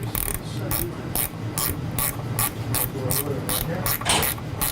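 A ratchet snugs up a 7/16 bolt on a sliding door panel, a close, loud series of sharp rhythmic clicks, about ten quick strokes in a steady pattern.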